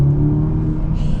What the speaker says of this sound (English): this is a 4-cylinder that actually feels like it's got a top end